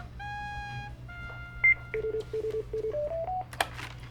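A dial tone gives way to a quick run of telephone keypad tones, about a dozen evenly paced beeps, followed by a brief click of the line connecting.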